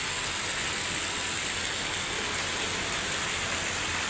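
Heavy rain pours down at a warehouse in Bohol in a dense, unbroken roar of hiss, constant and loud throughout with no voices.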